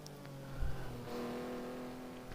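A Ferrari 575 GT1 race car at Laguna Seca, its engine droning in a steady, moderately distant whine that swells slightly as it accelerates.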